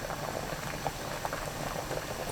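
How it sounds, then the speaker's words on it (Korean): Korean bean sprout soup with onion, chili and red pepper flakes bubbles steadily in a pot, a faint, continuous rolling boil with small pops and no talk. "거품 걷으면서 3분 끓여주세요."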